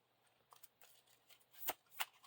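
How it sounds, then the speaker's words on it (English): A deck of cards is shuffled during a Lord of the Rings card game, making quiet, soft riffling with a couple of crisper snaps near the end. "The first player shuffles his deck and reveals the top card of the deck."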